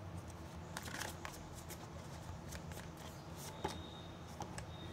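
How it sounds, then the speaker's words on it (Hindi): Tarot cards being shuffled by hand, a steady run of soft papery riffles and slaps with a few sharper snaps, close and fairly quiet, with no talking. "कार्ड शफलिंग का टाइम आपको नहीं पसंद है तो आप वो टाइम स्किप कर सकते हैं"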